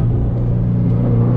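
Low, steady engine rumble from a 2004 Subaru WRX STI during a downshift, a continuous droning hum with no talking over it.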